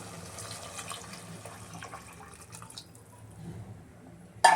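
Hot water being poured into a pan of rava vangi bath in a home kitchen, a continuous low liquid rush with faint splashes, ending in a brief louder clatter.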